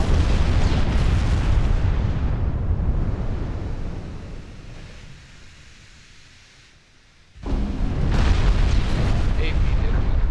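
A volley of armor-piercing naval gunfire from warships in Ultimate Admiral Dreadnoughts booms as a long, heavy rumbling roar that fades away, then a second loud blast erupts near the end.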